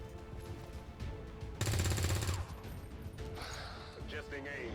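Weapon fire in XCOM 2, with a loud, rapid burst of automatic shots lasting under a second amid quieter mechanical clatter and background game sounds.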